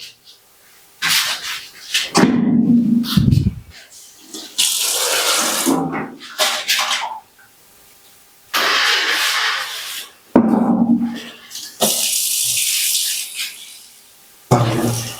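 Water gushes from a tap into a bucket at bathing time, in several loud bursts that start and stop repeatedly, each running a second or two with quiet gaps between.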